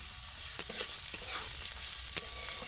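Ginger, green chilli and cashews fry together in a pan with a soft continuous sizzle and a few sharp stirring clicks, close up with no voices.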